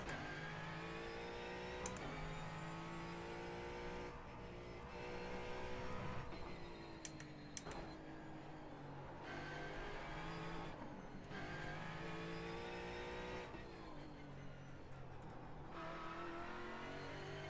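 Race car engine lapping the Nordschleife in a racing game, droning steadily at a low level with repeated rises and falls in pitch as it accelerates and shifts, plus occasional tire squeal.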